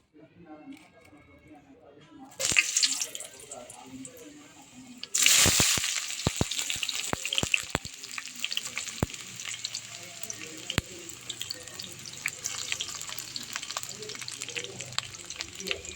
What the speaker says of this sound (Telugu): ఇప్పుడు వచ్చేసి ఆయిల్ వేద్దాం.